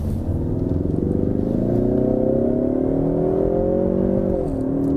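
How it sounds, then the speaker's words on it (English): A 2022 Ford Mustang EcoBoost accelerates hard in drag mode, its engine note climbing steadily through the revs with a brief dip at a gear shift near the end, loud and continuous with no talk. "the gear shifts are crazy"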